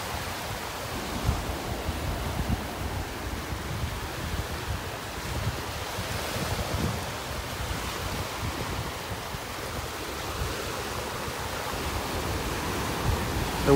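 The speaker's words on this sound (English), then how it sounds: "The wind is blowing directly into my face here." Steady wind gusts straight into a microphone on a beach in North Naples, Florida, a continuous roaring rush mixed with soft surf and no talking.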